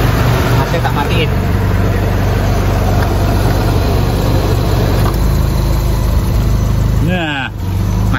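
A 1981 Honda Accord sits idling with its AC fans running, a loud, steady engine hum and fan whir heard up close, with a brief rising whine near the end.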